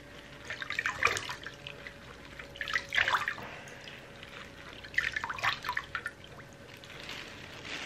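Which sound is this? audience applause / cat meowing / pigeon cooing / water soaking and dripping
water soaking and dripping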